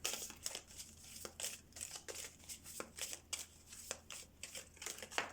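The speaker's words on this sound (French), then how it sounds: "je vais tirer 3 cartes de l'oracle G" Oracle cards being shuffled and drawn, giving quiet, close crisp riffling and snapping bursts in an irregular rhythm, with faint papery crinkles between them.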